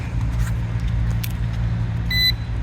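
Engine-like hum rumbles low, with a few small clicks, then a single short electronic drone calibration beep near the end.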